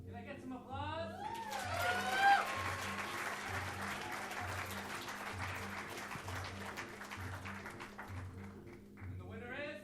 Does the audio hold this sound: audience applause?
yes